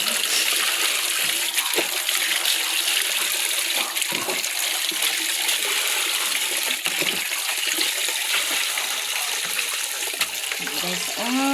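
Water being poured while changing the animals' drinking water, a steady, close splashing and trickling that runs continuously with a few sharper splashes and clatters along the way.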